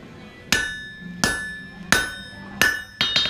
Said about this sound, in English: I'm using the anvil to put an indentation in there to separate the handle